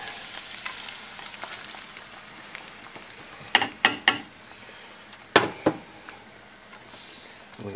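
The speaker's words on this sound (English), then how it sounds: "you can probably hear now that the carrots have begun to sizzle" Carrots and egg frying in a pan for spicy egg fried rice, giving a steady soft sizzle throughout with several sharp, close clatters of stirring or utensil taps in the middle; no talking.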